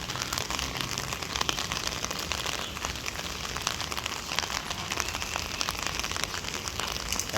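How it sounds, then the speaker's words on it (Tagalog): Rain pours down beside the Pasig River esplanade, a steady, fairly close wash of drops spattering on surfaces, continuous and without speech. "ulan."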